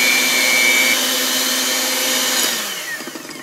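An electric mixer whirs steadily while blending sweet potato pie filling, a loud, even motor drone with a steady whine that slows and winds down near the end.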